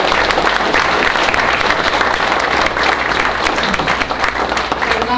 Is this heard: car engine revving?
no